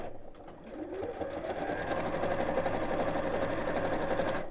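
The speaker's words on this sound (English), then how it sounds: "And sew straight down." Sewing machine top stitching fabric with a slightly longer stitch while making a simple circle pouch, a steady fast mechanical whirr and rapid needle clatter that builds and holds for several seconds, close and clear with no talking.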